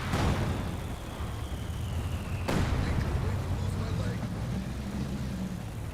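Mortar and artillery fire in Company of Heroes 2 booms under a commentator's continuous talk, with a sharp blast near the start and another heavy impact midway over a dense rumbling battle bed.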